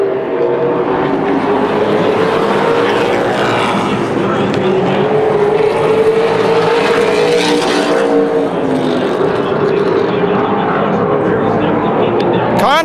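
Late model race cars roar around a short oval bullring track during heat races, a continuous loud engine drone with passing pitch sweeps, under a commentator's voice.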